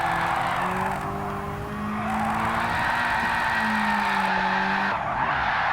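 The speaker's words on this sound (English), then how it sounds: "Let's switch it up and go drifting as I proceed." Car drifting in Gran Turismo 7, a continuous loud tire squeal layered over a droning engine note that rises and shifts as the slide holds.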